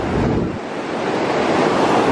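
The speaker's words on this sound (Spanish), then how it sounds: "Estas son olas." Ocean surf breaking on a beach at Los Cabos, a steady loud wash of waves with heavy wind rumble across the microphone, no voices.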